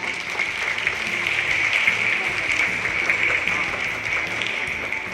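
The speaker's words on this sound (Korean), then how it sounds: "여러분 환영의 박수 부탁드립니다" An audience at a Jeju peace forum applauds as panel guests take their seats. Sustained, dense clapping from many hands fills the room at an even level, swelling slightly midway before easing.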